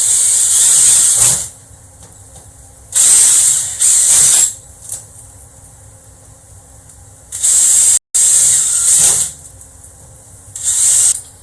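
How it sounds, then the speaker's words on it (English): Several bursts of a high-pitched, whirring drill cutting into a hard Lexan panel, each lasting one to two seconds with quiet pauses between them. "And now find your holes and complete the drilling process."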